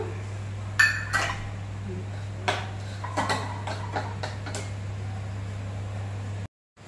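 A bowl being picked up and handled in a home kitchen while steamed fish is prepared: several sharp ceramic clinks and taps, close and spaced irregularly over a steady hum.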